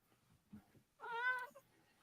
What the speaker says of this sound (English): Oh, the kitty.